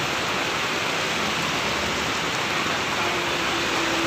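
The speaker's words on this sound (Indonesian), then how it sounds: "Waduh, Palembang hujan deras" Heavy rain pours steadily in Palembang, a dense, even hiss of downpour on surfaces with a faint steady tone beneath, no talking.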